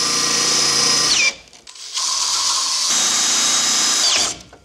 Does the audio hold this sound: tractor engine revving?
no